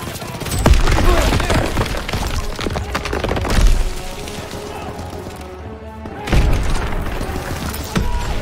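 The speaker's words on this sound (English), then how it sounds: "Throw the grenade!" Explosive booms from a grenade blast in the Call of Duty WWII video game, with loud bursts amid gunfire and battlefield chaos, shouting voices heard throughout.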